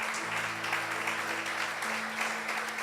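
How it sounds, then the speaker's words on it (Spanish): Church congregation clapping at a Sunday service, a dense, continuous wash of applause at moderate volume over a low steady hum, with no clear breaks. "Aplauda a Jesús, dele gloria a Dios."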